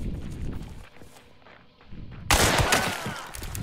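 Gunfire in a first-person shooter video game, a few sharp cracks with footsteps and faint game noise, ending in a loud dense burst of shots.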